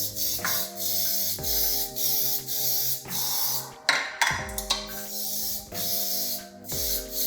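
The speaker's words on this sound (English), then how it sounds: "give them a good spray with Spray and Cook to make sure that they do not stick" Short hissing bursts of an aerosol cooking spray onto a muffin tin repeat several times over a steady background of tonal music.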